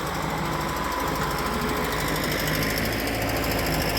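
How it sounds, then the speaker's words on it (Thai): A tractor engine runs steadily nearby while scraping soil, with a fast, rattling mechanical clatter, loud and continuous. "ันนี้ก็เอารถไถมาปาดครับ"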